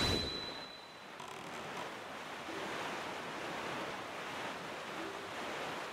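Ocean waves wash in a steady broadband rush while sailing across the sea in The Legend of Zelda: The Wind Waker HD, with a soft wind-like hiss and gentle swells throughout, no voices.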